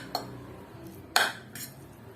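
Metal utensil clinks and scrapes against a bowl while hot and spicy pancit canton noodles with extra hot seasoning are mixed, three brief taps spaced apart, fairly quiet.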